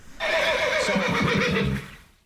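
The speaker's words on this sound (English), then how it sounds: "Was that a horse?" A horse gives one loud, drawn-out neigh with a shaky whinnying quaver, close and clear, fading at the end, with no talk over it.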